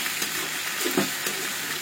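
Beef sizzles in a hot pan in a home kitchen, a continuous close frying hiss with faint stirring scrapes and no talking.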